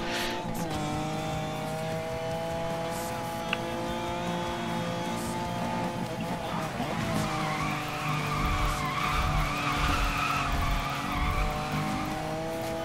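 A BMW in Need for Speed Most Wanted drifts with a long, sustained tire squeal over a steady engine drone, the screech swelling mid-run and continuing loudly to the end.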